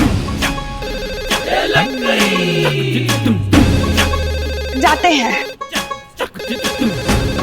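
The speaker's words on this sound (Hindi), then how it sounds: "आपके डेस्क पे फोन बज रहा है, उठाइए जाइए" A desk telephone rings repeatedly with a bright electronic trill, loud and steady through most of the clip, while people talk over it in Hindi and background music plays.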